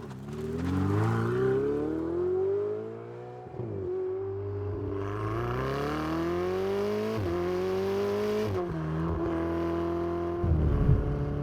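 A Ferrari 488 GTB drives on the road, its engine rising in pitch through several gears with brief dips at each shift, heard from inside at moderate loudness with no talk.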